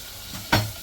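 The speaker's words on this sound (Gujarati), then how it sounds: "એટલે પહેલાં આપણે દાળ વઘારી લઈએ." Masoor lentil dal being tempered in hot oil, with onion, asafoetida and garlic in the pan, bursts into one sudden loud sizzle that fades quickly, with no talking.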